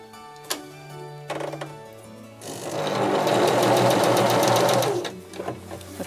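A sewing machine clicks softly a few times, then runs steadily for about two and a half seconds, its needle stitching in a fast even whir before slowing to a stop with a few more ticks.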